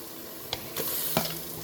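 Masala with chili powder sautéing for a country chicken biryani, a continuous close sizzle broken by a few sharp spatula scrapes against the pan, with no talk.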